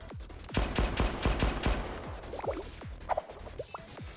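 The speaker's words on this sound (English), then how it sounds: "A fierce battle commenced with wave upon wave of attackers taken out by precision shots." Gunfire during a battle in the video game Blue Archive: a rapid burst of sharp shots in the first half, then sparser scattered pops and whooshes, loud and close, with no talk.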